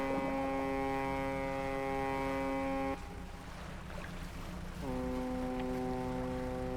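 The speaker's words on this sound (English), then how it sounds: "Wonder what the foghorn does. A loud horn makes your presence known." A boat's foghorn in the fishing game Dredge blares in two long, steady tonal blasts separated by a brief gap, loud over a low ambient hum, with no talking.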